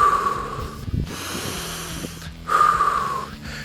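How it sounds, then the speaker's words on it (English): A runner breathes in through the nose and out through the mouth, close and audible. Two long, hissing breaths are separated by a short pause, with no talking. "One way that's really good is to breathe in through your nose"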